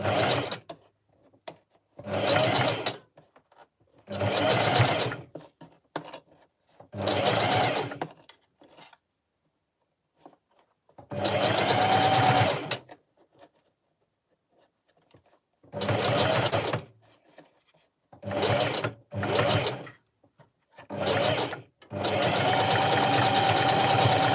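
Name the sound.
sewing machine stitching in reverse to lock stitches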